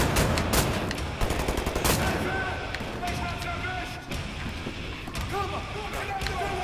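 Shotgun blasts and other gunfire in Wolfenstein The New Order, a rapid cluster of sharp loud shots at first and sparser hits later over steady combat noise, with a voice talking underneath.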